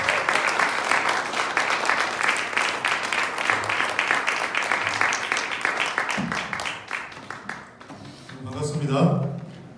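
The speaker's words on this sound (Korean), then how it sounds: "박수로 앞으로 모시도록 하겠습니다" A church youth retreat crowd claps steadily to welcome a visiting pastor, sustained close applause that fades out near the end as a voice begins speaking.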